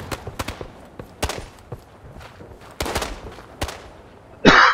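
Sharp gunshots from a WW2 shooter game, Days of War, crack out in an irregular sequence of single and paired reports, some near and loud, ending in a denser burst of noise.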